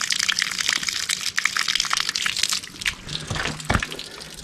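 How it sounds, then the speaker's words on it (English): Water gushes and splashes as it drains from the radiator of a 1973 GMC C2500 during a coolant flush, a loud uneven pouring stream with a few gurgling dips toward the end and no talk. "we got that water coming out crystal clear"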